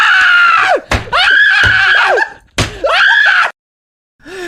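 A recording of two men screaming plays loud and close as several shrill, strained bursts broken by short gaps, ending in a brief silence before one last cry begins.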